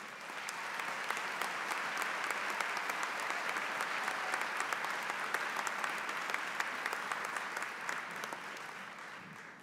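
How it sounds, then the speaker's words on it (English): A commencement audience at UMBC's winter undergraduate ceremony gives faculty and staff a steady round of applause, even, dense clapping that holds at moderate distance for the whole stretch with no talk over it. "Would the faculty and staff please stand so we can give them a round of applause?"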